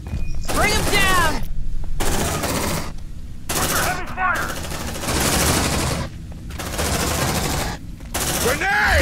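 Bursts of rapid gunfire in the Aliens: Dark Descent video game erupt loud and close, broken by short pauses, with shouted voices among the shots.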